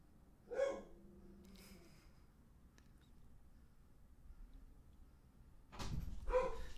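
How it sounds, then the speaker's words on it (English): A dog barks at a man indoors in a couple of short bursts, one early and another near the end, with a quiet stretch between. "the dog is currently woofing at the male person"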